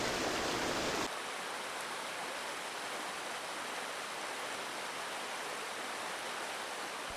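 Stream water running over rocks at Malham in winter, a steady broadband rush of flowing water that holds evenly throughout, close and fairly loud, with a louder burst in the first second and no voices.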